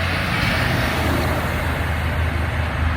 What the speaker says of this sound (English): Because normally I ain't walking next to cars under bridges